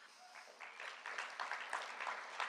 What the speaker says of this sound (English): You clap for everything I say.